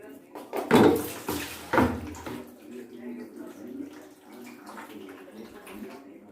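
Water runs steadily into a container that is nearly full, a continuous splashing rush with someone speaking over it at the start.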